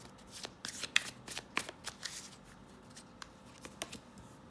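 Tarot cards are shuffled with a series of soft, quick riffling flicks and taps, close by and fairly quiet, as three cards are drawn.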